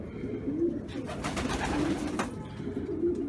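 A pigeon settled on its perch after feeding gives soft, low coos, a few repeated throaty calls at moderate distance over a quiet background with faint rustling.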